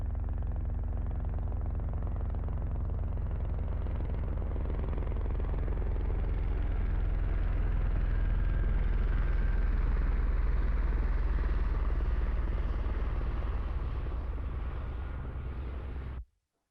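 An Airbus AS350 helicopter passes on the left side, a steady, loud low rotor and engine drone that holds for about sixteen seconds before cutting off abruptly.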